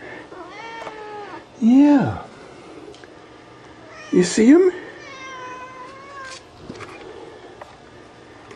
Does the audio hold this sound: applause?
no